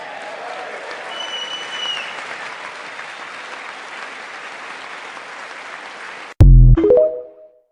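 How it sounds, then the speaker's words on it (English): An audience gives sustained, dense applause at a political speech, which cuts off abruptly and is followed by a short electronic jingle. "Not one of the Democrats got up and clapped for that."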